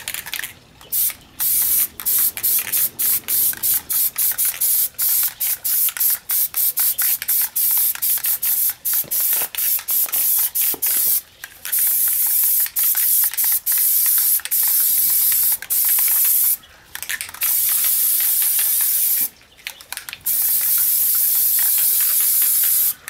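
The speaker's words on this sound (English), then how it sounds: "So I'm just going to take this off and spray it here" An aerosol can of Plasti Dip hisses in long, steady bursts onto metal with brief pauses between, close and loud, plus faint rattling clicks.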